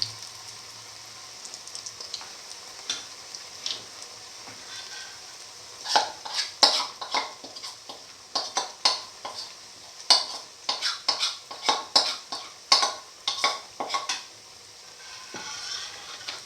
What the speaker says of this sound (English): Put in the next set of batter and let it fry.